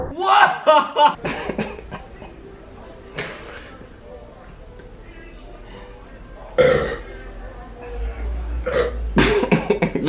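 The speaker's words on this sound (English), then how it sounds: "still belching that soda" A man lets out several loud, guttural belches after drinking soda, bursts spaced across the stretch with quieter gaps and some chatter between them.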